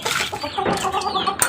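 Asil gold chicks cluck and peep in quick, irregular bursts close to the microphone, with a brief sharper chirp near the end.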